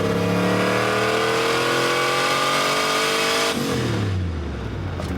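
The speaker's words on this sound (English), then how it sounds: "There's the stumble I was talking about earlier." A carbureted blow-through turbocharged car engine pulls hard and loud under boost, its rising drone suddenly breaking and stumbling partway through before droning on lower.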